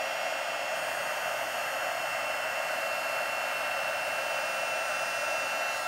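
A heat embossing tool blows hot air onto a card as a steady, loud, close rushing hiss that holds level throughout without a break.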